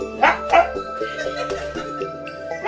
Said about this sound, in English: what dogs hiss like that on the stairs?